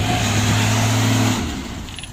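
A 1996 Daihatsu Espass with a 1.6 engine revving close by, a loud steady engine drone with a held tone that drops away after about a second and a half, heard alone.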